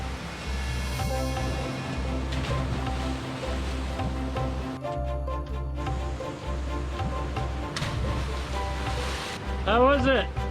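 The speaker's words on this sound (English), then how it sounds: "I can hear the water rushing down the hill" Steady water rushing down a hill fills the scene, a constant broad roar with a low hum underneath and a few faint voices near the end.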